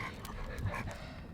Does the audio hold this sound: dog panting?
yes